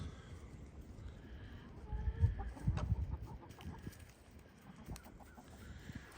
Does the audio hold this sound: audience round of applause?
no